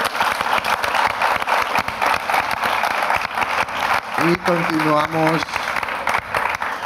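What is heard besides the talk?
audience applause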